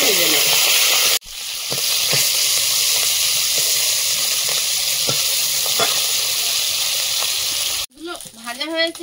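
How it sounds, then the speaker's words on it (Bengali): Pieces of turmeric- and salt-rubbed bog fish sizzle steadily in hot oil in a kadai, a loud continuous frying hiss with a few spatters, briefly cut off near the start and again near the end. "মাছগুলো হাফ হাফ করে ভেজে নেব।"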